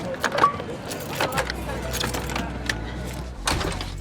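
A bunch of car keys handed over at a bus beside a political rally, several light metallic jingles and clinks close by, with muffled handling noise and a low engine-like rumble underneath.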